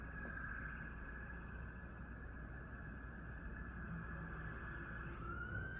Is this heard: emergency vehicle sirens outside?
yes